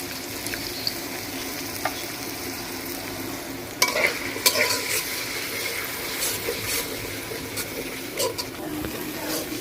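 Spice paste with ground coriander, salt and a little water being stir-fried in a pan, a soft continuous sizzle broken by close scraping and clattering of the stirring spoon, with no speech.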